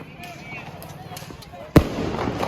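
A single loud, sharp bang from a Diwali firecracker (nal) cuts in near the end, following a quieter stretch of faint voices and background noise, with brief crackle afterward.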